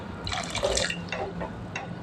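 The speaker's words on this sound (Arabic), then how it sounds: "نحط لها المي شي تتغمر ونكتر لك" Water poured into a pot of white beans on a kitchen stove, a steady splashing pour with dripping that swells midway, then trails off into softer intermittent splashes.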